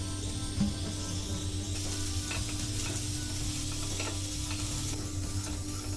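Dried grated coconut roasting in oil in a pan for Malvani goat intestine curry, stirred constantly so a steady soft sizzle runs throughout with light scraping of the spoon, close and fairly quiet.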